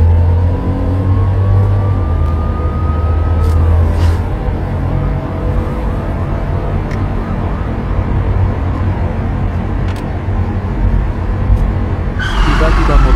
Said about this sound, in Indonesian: 4 mobil polisi keluar dari garasi, untuk melakukan aksi konvoi mencari orang yang dicari bersamamu